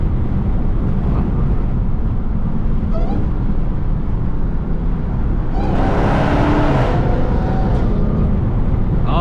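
A loud Dodge Hellcat accelerates hard in third gear while driving under a bridge in traffic. It is a continuous roaring engine and exhaust drone, close and heavy, swelling into a louder, rasping surge partway through.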